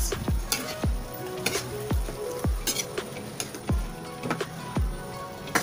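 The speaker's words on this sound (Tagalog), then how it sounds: "Haluin lang guys, haluin lang." Chicken curry sizzles steadily in a pan while a spoon stirs it, giving repeated scraping knocks about once a second over the constant frying hiss, with no talking.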